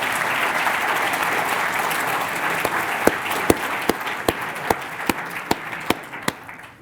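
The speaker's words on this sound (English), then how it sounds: "Another round of applause." A steady round of applause fills the hall after a medal presentation for the Bakerian Prize and Lecture. The ovation then thins into a handful of loud, spaced individual claps near the end.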